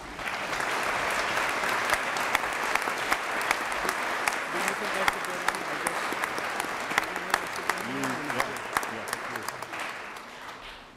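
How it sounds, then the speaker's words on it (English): In the Colorado Senate chamber on the opening legislative day, a sustained, dense round of applause for the Chief Justice fills the room, with sharp individual claps and a voice briefly audible beneath before it fades. "let's give a round of applause to our Chief Justice."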